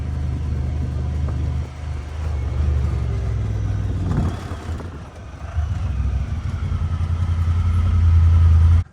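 A UTV engine rumbles steadily as the machine pulls back into a garage, its low drone rising and dipping briefly mid-way before swelling louder near the end and cutting off abruptly.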